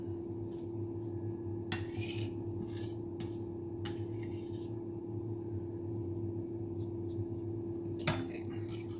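A knife chops chocolate on a board in a quiet kitchen, with several sharp, irregular taps and clacks over a steady low hum, one louder knock near the end.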